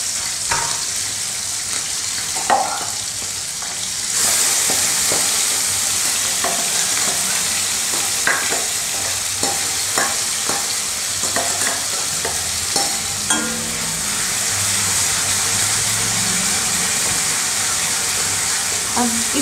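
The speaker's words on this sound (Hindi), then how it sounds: "इस मसाले को हमें बहुत ही अच्छे से भूनना है।" Masala gravy of onion and spices for baingan bharta frying in a pan, a steady loud sizzle with repeated scraping taps of a spoon stirring it.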